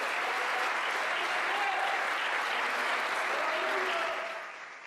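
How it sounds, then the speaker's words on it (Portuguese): Steady, dense applause from a church congregation during a sermon, filling nearly five seconds at an even level before thinning out at the end. "Quem pode aplaudir, aplaude mesmo, porque alguém começou."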